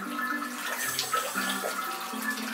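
Water runs steadily from a household tap and splashes out, a close, continuous rushing and spattering sound with small fluctuations and no voices over it.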